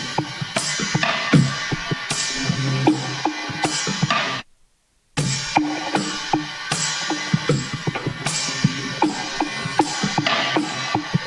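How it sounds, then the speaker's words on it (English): Dry percussive loop from the Imagine drum loop pack, unprocessed: busy, textured experimental hits and clicks repeating in a steady groove, with a brief half-second dropout midway before the loop resumes. "And I've added this percussive loop, which is from my Imagine drum loop pack"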